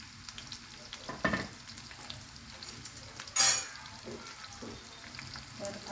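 Thinly sliced onions frying with cumin seeds in a pan for a soybean curry, giving a soft continuous sizzle with occasional stirring scrapes and one sharp clatter partway through.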